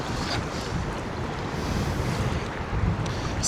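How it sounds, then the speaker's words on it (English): Choppy, aggressive waves on the Missouri River slap and wash steadily around a kayak near Tobacco Gardens, a continuous loud churning roar mixed with wind buffeting the microphone. "the waves are still pretty aggressive"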